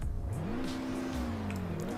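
A 2013 Wolfsburg Tornado, a Volkswagen Scirocco, in the Roblox game Greenville, revs its engine steadily, the tone climbing and falling in a clean, continuous drone with no pops.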